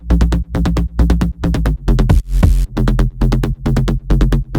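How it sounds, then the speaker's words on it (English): Layered bass for a stutter house track pulses in short, choppy bursts with a steady rhythmic stutter, loud and deep, with a brief noisy sweep in the middle and no talking. "The bass layers create a cohesive and powerful low end that sounds like this."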